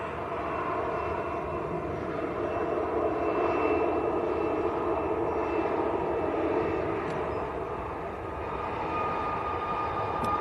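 A TUI airliner powers down the runway at Manchester Airport on its takeoff roll, a loud continuous jet roar that holds steady throughout and swells slightly in the middle.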